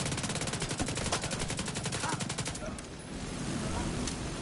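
Shotgun fire in a video game: a rapid burst of gunshots lasting about two and a half seconds, then fainter game background noise.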